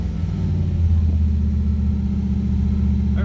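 A Ford Crown Victoria engine idling while warming up, a steady loud low rumble held evenly throughout, close by with no talk.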